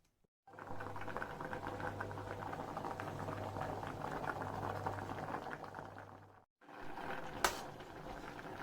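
Chickpeas boil in a pot with a steady bubbling rumble that briefly cuts out, then resumes with a single sharp click.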